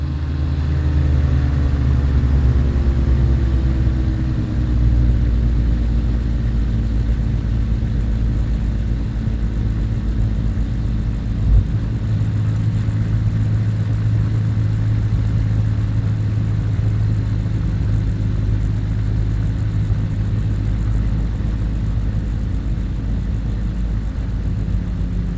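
A de Havilland Beaver floatplane fitted with a three-blade propeller lands, its steady near engine and prop drone holding loud and even throughout, with a low rumble underneath and a falling whine early on.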